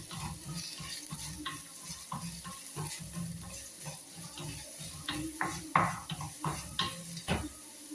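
Shallots and curry leaves sizzle in a pan for a prawn and mango curry. The frying comes with frequent stirring scrapes and a few sharp clinks of a utensil against the pan.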